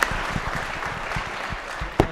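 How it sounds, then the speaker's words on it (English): Applause ripples through the Colorado Senate chamber after the Pledge of Allegiance, a brief patter of scattered claps from a modest group, with a sharper sound at the end. "Let's give them a round of applause."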